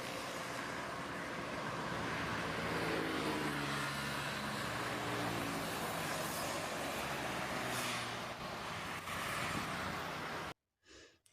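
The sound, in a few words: cars and bus moving fast in traffic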